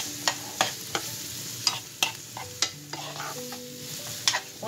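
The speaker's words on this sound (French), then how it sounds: "je crois qu'on dit qu'on laisse l'oignon fonder" Chopped onion sizzling gently in a pan for a white fish gratin, with repeated scrapes and stirs of a utensil against the pan over a steady fry, close and moderately loud.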